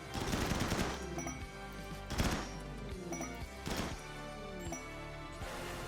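A RimWorld firing squad lets off repeated bursts of gunfire with sharp, closely spaced shots that come in several rapid volleys over a low, steady game background.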